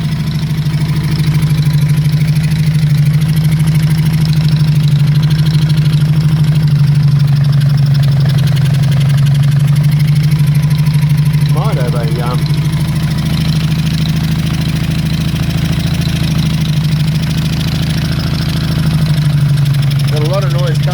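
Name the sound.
Honda CB350 Four motorcycle engine running, missing cylinders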